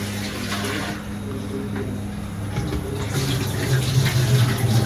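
Water poured over rice being washed, a steady close running-water wash that grows slightly louder toward the end, with a low hum beneath it.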